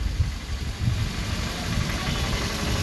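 A boat engine runs steadily on the water, a low continuous rumble with a slight rhythmic throb and no voices over it.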